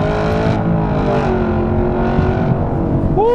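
Chevrolet Camaro ZL1 1LE engine under hard acceleration, a loud steady roar that climbs slowly in pitch, heard close from inside the car with no talking.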